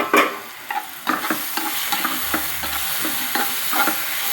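Mango pickle seasoning fries in hot oil, sizzling steadily with repeated stirring scrapes of a utensil in the pan, close and fairly loud, no voices.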